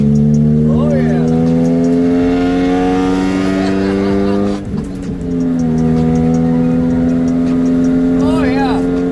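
Honda Prelude engine running rough with a misfire, a loud steady drone from inside the car with a shaking, uneven tone throughout, briefly dipping midway before resuming, while occupants speak over it.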